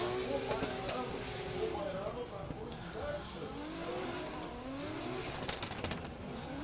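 Drift cars running on track at the Oman International Drift Championship 2023, engines revving in sweeping rises and falls with tyre noise, loud and continuous throughout, with a voice talking over the racket.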